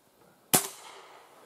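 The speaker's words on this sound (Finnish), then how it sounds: "Ja ammutaan." A single sharp gunshot cracks out in a forest at night, loud and close, followed by a brief ringing decay.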